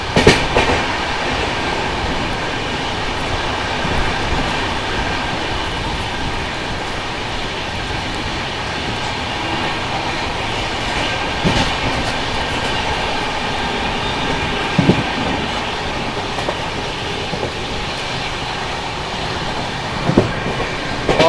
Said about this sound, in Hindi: एकदम धुआं उड़ाता हुआ जा रहा है अपना डीजल लोकोमोटिव